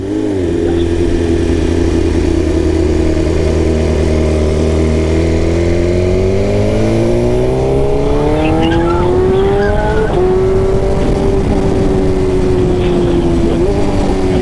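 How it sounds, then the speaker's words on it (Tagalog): BMW S1000RR sport motorcycle carrying a passenger as a habal-habal taxi, engine loud and close, climbing steadily in pitch through the gears with a rising whine, brief shift dips near the end, no talk. "Makasakay yung big bike na habal-habal."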